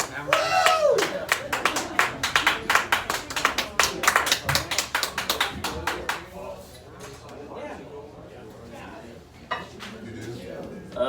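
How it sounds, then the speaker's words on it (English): Audience clapping at a live talk, with crisp separate claps bunched together at first, then thinning and tapering into quieter, scattered claps and murmurs toward the end. "Matthew Parsons, everybody, clap it up."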